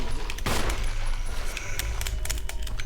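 Gunfire in Resident Evil, a dense run of sharp close shots firing in rapid bursts over about three seconds, loud and continuous with a heavy boom near the start.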